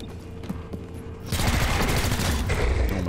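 A sudden barrage of gunfire bursts out partway through, sustained and loud, in the turn-based tactical video game XCOM: Chimera Squad, following a quieter stretch of ambient game sound.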